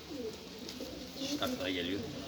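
Soft cooing of pigeons in a coop, including a honey-breasted rusty-coloured male, heard over steady background noise while people talk nearby.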